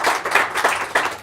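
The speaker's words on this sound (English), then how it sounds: "let's just give a round of applause to our panelists for their smiles" Audience applause for the panelists at a Davos forum discussion, a close, dense burst of clapping that swells and pulses briefly with no talk.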